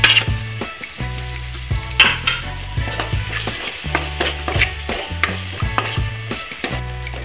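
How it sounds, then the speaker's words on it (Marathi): Tomatoes tipped into a hot pan of frying masala give a steady sizzle broken by repeated scraping and stirring knocks from a utensil, close and fairly loud, with no voices. "आणि लगेच टोमॅटो सुद्धा टाकून घेत आहे।"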